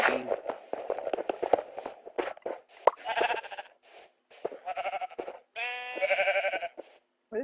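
Blocky game sheep bleat in a string of short wavering calls, some overlapping, amid light clicks of digging and footsteps, close and fairly loud with quiet gaps between.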